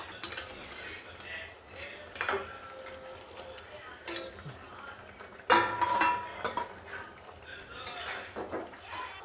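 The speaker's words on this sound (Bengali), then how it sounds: "এখন আমি মাছগুলো দিয়ে দেবো" Pieces of katla fish go into a bubbling potato and helencha greens curry in a pot, with repeated clinks and scrapes of a utensil against metal over a low simmering sizzle, close and without talk.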